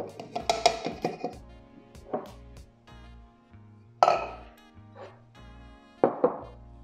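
Rye flour is stirred into water in a bowl with a utensil, producing intermittent scraping clinks and knocks against the bowl in short irregular bursts separated by quiet pauses.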